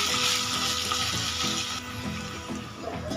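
Ridge gourd and pre-fried potatoes sautéing with spices in oil over a low flame, a continuous loud sizzle and crackle up close with no talk.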